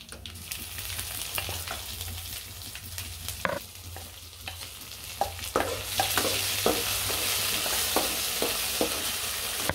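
Green chillies and onions frying in a pan with little oil for tomato chutney, a continuous sizzle broken by repeated scraping stirs that grows louder and brighter partway through.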